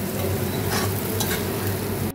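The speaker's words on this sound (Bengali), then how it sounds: "ভেন্ডিগুলো ভালো করে ভেজে নেব নেড়ে করে।" Okra fries in a pan with salt and turmeric while being stirred, producing a dense, close crackling sizzle with soft scraping over about two seconds.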